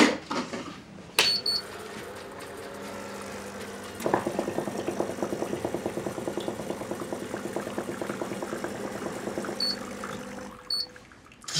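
A coffee machine hums and rattles steadily while brewing, a fast buzzing chatter with faint gurgling, starting after a click and stopping near the end.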